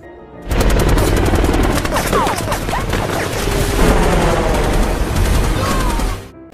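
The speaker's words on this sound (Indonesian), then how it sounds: "helikopter menghujani tembakan" Sustained heavy automatic machine gun fire from a helicopter rattles nonstop for several seconds, loud and close, with a deep rumbling undertone and no break in the shooting.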